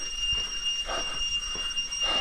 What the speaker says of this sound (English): It's not a smoke detector or a fire alarm. It is some bug, tiny little bug. Makes a very loud sound.